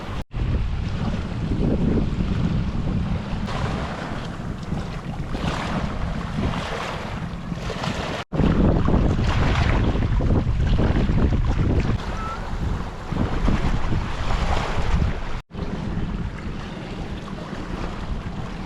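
Strong wind roars across the sea near a small boat, loud continuous gusting and microphone buffeting over washing waves, with brief dropouts and no talking.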